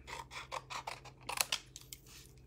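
Scissors cut card stock into strips by hand, producing a steady run of about eight crisp, close snips at an even pace, followed by a few quicker rustling cuts and some handling noise.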